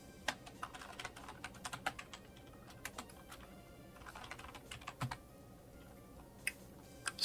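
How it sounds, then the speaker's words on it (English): Rapid, uneven keystrokes clatter on a computer keyboard, close and fairly faint, with brief pauses between bursts and no talking. "Am I typing in caps?"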